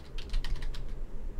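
Rapid clicking of computer keyboard keys as a teleport command is typed during a game session, a quick burst of close keystrokes heard alone.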